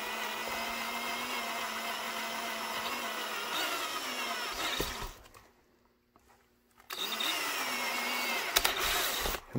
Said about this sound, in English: We're gonna drill this one.